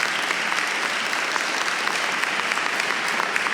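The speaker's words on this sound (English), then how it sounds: "let's give a round of applause to them" A crowd at a whistleblower day event breaks into sustained applause, a thick, steady wash of many hands clapping at close range with no pause.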